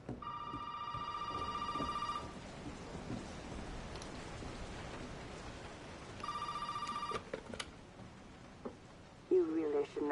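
An old landline telephone rings inside the Baker house in Resident Evil 7, two long bursts of electronic trilling separated by a pause, over steady rain and rumbling thunder, with a voice briefly speaking near the end.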